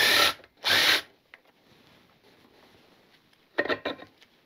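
A power tool releases the rear sprocket nuts during a chain and sprocket replacement, with two loud close bursts early on, a quieter stretch, then another short rattling burst near the end.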